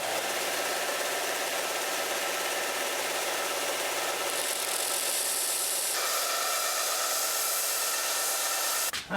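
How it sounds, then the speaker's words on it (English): Grinding down a steel dagger blade, a loud continuous high-pitched hiss and whine of the grinder held steady for several seconds before cutting off at the end. "I'm gonna grind this down again, make it all narrower"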